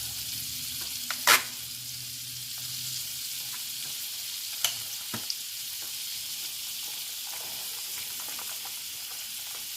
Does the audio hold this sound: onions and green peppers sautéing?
yes